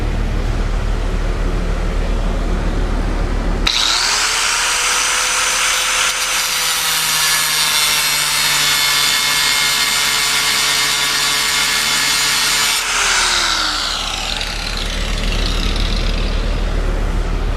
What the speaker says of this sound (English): I've got a 4-inch angle grinder with one of the little small discs